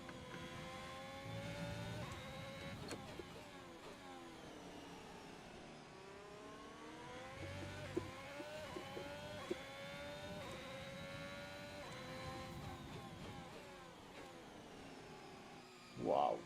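Steady engine drone from a car in a racing video game, pitch climbing and falling through gear changes across the whole stretch, moderately loud and continuous with no talk, ending in a short bump.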